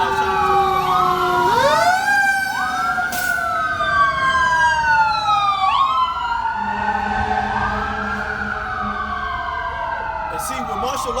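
Fire engine and emergency vehicle sirens wail as they pass along a street outside, loud rising and falling tones that overlap and slowly fade, with brief speech underneath.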